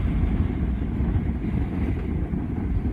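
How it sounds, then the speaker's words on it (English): Sailboat engine running steadily at sea on a solo passage from Fiji to New Zealand, a continuous low rumble mixed with wind and water noise, with no voices. "The engine's running."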